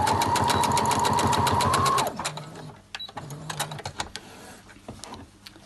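Domestic sewing machine running a second row of stitching alongside the first, a fast steady mechanical whir for about two seconds, then stopping into quieter clicks and handling sounds.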